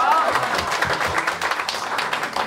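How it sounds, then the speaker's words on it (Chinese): A committee meeting crowd gathered in a hall gives a round of dense, continuous clapping, close and fairly loud, with voices mixed in. "我们再一次给掌声的"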